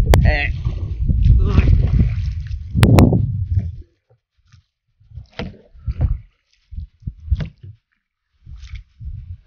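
A kayak is paddled fast along the Rezu canal near Cox's Bazar. Wind buffets the microphone at first, then quick splashing paddle strokes come in short, irregular bursts, close by.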